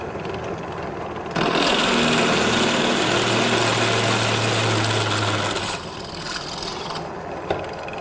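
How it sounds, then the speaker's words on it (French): Drill with an 8 mm bit cutting into thick sheet steel, a steady grinding, rasping whir that rises in load for several seconds with a low motor drone, then eases back to a lighter hum. "là j'ai mis la mèche de 8 mm et elle est bien alignée pour tomber dans le trou"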